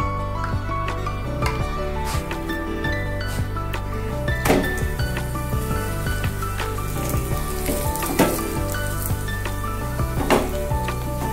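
Paratha fries in ghee or oil on a hot pan with a steady, loud sizzle throughout, broken by occasional clinks and scrapes of a utensil against the pan.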